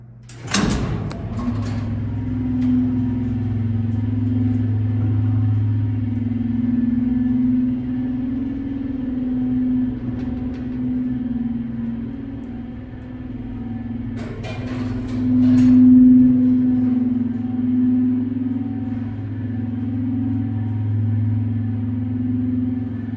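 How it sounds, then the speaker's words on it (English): An IECO gated elevator at Morgan Hall, UC Berkeley in Berkeley, California, rides upward with a steady low motor hum and rumble, a clack of the gate or door near the start and another clunk partway through. "This is one epic elevator. Let's take it up for another ride."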